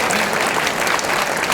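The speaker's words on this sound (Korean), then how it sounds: "다시 한번 격려의 박수 한번 해주실 수 있어요?" Audience applause at a church service during a pastor's sermon, a steady wash of many hands clapping together, dense and sustained at even loudness throughout.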